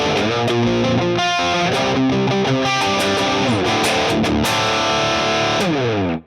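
Electric guitar run through an AmpliTube MESA/Boogie Mark V amp simulation, with reverb on by default, playing distorted chords and melodic riffs at a steady loud level before cutting off abruptly.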